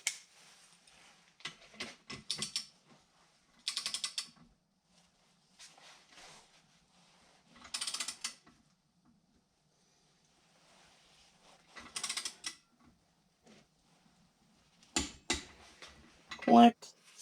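A torque wrench tightens the wheel axle nut on a Harley Davidson motorcycle and makes short bursts of close metallic ratcheting clicks. Quiet gaps fall between the bursts, and a final sharp click marks the set torque.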